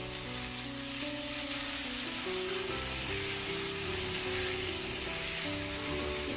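Pieces of beef fat stir-frying in a pan over lowered heat, a loud continuous sizzle with stirring scrapes and a low hum beneath.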